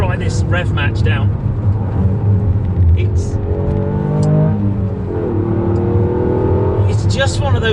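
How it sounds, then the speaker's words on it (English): A Toyota GR Yaris engine blips sharply up and down as it rev-matches on downshifts, revs rising and falling under steady road noise while someone talks over it. "Just try this rev match down."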